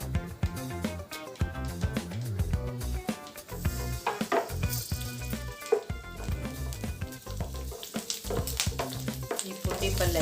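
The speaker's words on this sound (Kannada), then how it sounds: "ನಾವು ಈ ಹಸಿಮೆಣಸಿಕಾಯಿನ ತಾಳಿಸ್ಕೊಂಬೋಣಂತೆ ಸ್ವಲ್ಪ ಎಣ್ಣೆ ಹಾಕ್ಕೊಂಡು" Green chillies fry in hot oil in a pan for gongura chutney, with a steady close sizzle and repeated scraping, stirring strokes throughout.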